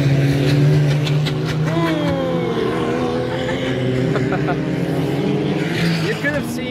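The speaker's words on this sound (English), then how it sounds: "let's have a look at the amazing race cars passing by" Race cars on the Nordschleife pass at a distance, their engines rising and falling as they come and go, with someone talking throughout over the droning motors.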